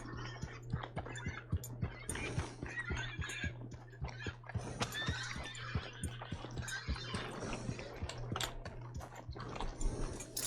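A horse in the video game Red Dead Online, hooves clip-clopping in a steady, even rhythm at close range, with soft snorts mixed in over a low game hum.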